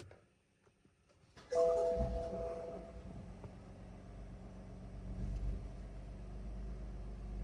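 A warm BMW M3 F80 is started with the key: a brief crank, then the engine fires with a loud rumble that settles into a steady idle.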